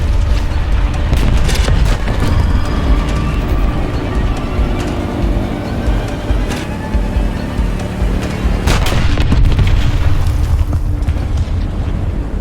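Loud, continuous battle din of bomb explosions from PE-8 bombers in the War Thunder video game, with deep rumbling booms running throughout and a sharper burst of blasts near the end.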